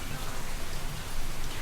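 Light rain falls steadily, a soft even hiss of sprinkles with no distinct drops standing out, continuous and moderately loud with no voices.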